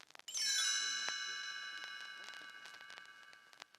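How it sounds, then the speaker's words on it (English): A bright chime rings once as a page-turn cue on a storybook read-along record, a clear shimmering strike that sustains and slowly decays, with a voice briefly audible near the start and faint ticking after. "You will know it is time to turn the page when you hear the chimes ring like this."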